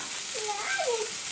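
Cooked saltfish, or salted cod, sizzles in a pan with tender aromatics, giving a steady, close broadband hiss while a voice murmurs faintly over it.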